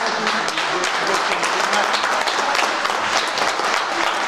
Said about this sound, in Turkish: O yüzden de alkış isteyelim hepsine